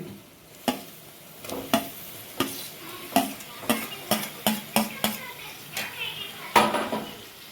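A spoon stirs chopped green chilli and tomato into chicken curry in a pan. About a dozen rhythmic scraping strokes come close and clear over a soft sizzle.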